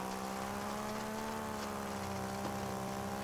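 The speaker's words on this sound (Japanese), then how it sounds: "エンジン音だけはよく響いてる。" A vehicle engine drones steadily in the building game Trailmakers while driving through swampy terrain, a constant loud hum with layered tones and no breaks or voices.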